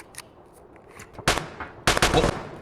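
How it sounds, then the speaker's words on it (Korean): Two loud bursts of rapid video game gunfire in Escape from Tarkov, one short and one longer, cracking out over a quiet background with a few faint clicks before them. "총소리 확인했어?"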